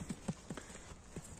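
A four-year-old Kyrgyz horse used in ulak games walking on hard ground, several distinct hoof clip-clops at an uneven pace, quiet and fairly close.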